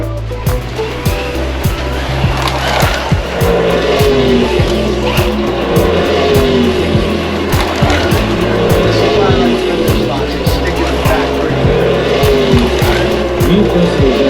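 Slot cars whine around the DeLeon Slot Car Raceway in a loud, continuous electric-motor drone with repeated rising passes and clicking track noise, while voices talk over the action.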